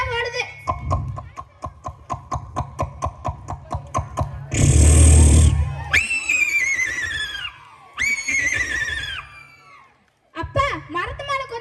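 A voice imitates a galloping horse with rapid rhythmic clip-clop clicks, then gives two loud, shrill whinnying neighs, followed by more galloping clicks.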